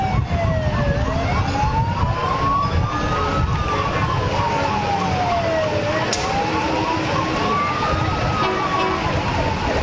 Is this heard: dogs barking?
no